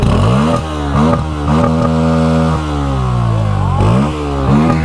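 A Bajaj Pulsar NS160 motorcycle that has been in a crash idles close by and is revved repeatedly in short bursts, its engine note climbing and falling several times, loud and with no voices over it.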